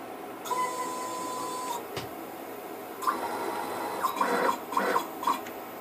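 A CNC 6040 router raises its Z axis: a steady stepper-motor whine runs for just over a second and then stops, followed later by a few brief mechanical rattles and clicks, close by and fairly quiet.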